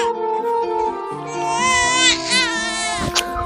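An infant girl cries loudly and continuously, a wailing, sobbing cry close to the listener with rising and falling pitch, heard alone without talk.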